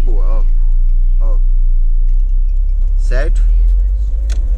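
A car pulls away gently in first gear as a learner releases brake and clutch together, a low steady engine hum under close talking by an instructor.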